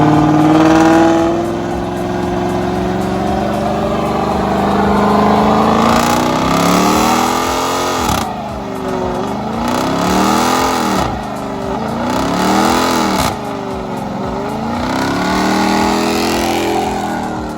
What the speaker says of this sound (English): That was a really good burnout.